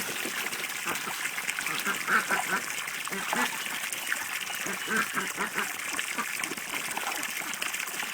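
A duck splashes and bathes in a filled pool on a duck farm, giving continuous close splashing and dribbling water with occasional soft duck calls and a voice talking over it.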